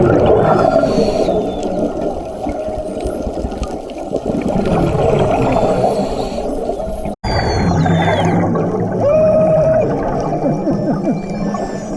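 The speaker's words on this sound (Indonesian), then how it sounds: "ini adalah segerombolan lumba-lumba. Lebih tepatnya spesies lumba-lumba yang dinamakan spinner dolphins" Spinner dolphins underwater off Alor whistle and click in a dense, continuous chorus, with high squeals over a steady wash of water noise and bubbling.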